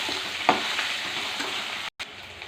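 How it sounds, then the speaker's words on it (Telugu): Onions, green chillies and curry leaves fry in a pan with a steady close sizzle, broken by one brief stir and a short gap near the end. "ఉల్లిపాయలు, పచ్చిమిరకాయలు, కరివేపాకండి. కొద్దిగా బాగా వేగనిద్దాం."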